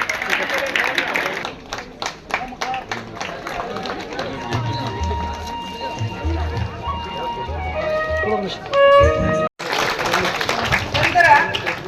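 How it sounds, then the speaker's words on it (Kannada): Loud applause from a crowd at a school class event, with dense clapping that swells and carries on under chatter and voices, then cuts off briefly before picking up again. "ಜೋರಾದ ಚಪ್ಪಾಳೆ ತಟ್ಟೆ."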